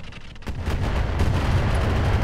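An LRM turret fires in the Roguetech video game, a sharp launch followed by a dense, rumbling barrage of missile impacts that swells and holds loud to the end.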